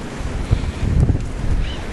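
Strong wind blowing across snowy ground after the 2013 blizzard in West Warwick, Rhode Island, a loud, steady rushing roar buffeting the microphone, with no voices.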